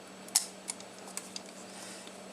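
The shutter release on an Argus A2B Anastigmat f/4.5 camera is pressed and let up: one crisp, loud mechanical click followed by several softer, evenly spaced ticks, close up and otherwise quiet.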